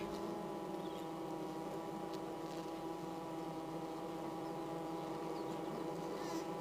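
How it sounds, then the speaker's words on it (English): Honeybees gathering nectar among summer cottage garden border flowers in the Cotswolds, a soft steady buzzing drone that carries on throughout over a faint outdoor background. "cottage borders are a focus for the activities of honeybees, and all summer they're able to gather nectar from the same small patch."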